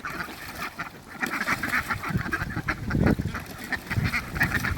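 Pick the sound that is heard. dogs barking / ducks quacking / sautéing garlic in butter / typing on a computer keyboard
ducks quacking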